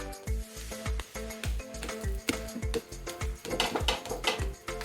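Thalipeeth flatbread cooking in a pan after being flipped, with oil added, producing a quiet sizzle broken into quick, repeated pulses and crackles throughout.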